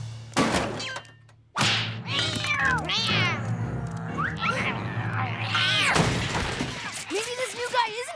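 A cartoon cat meows and yowls in a series of rising, bending cries, mixed with thumps and crashing effects and overlapping character voices.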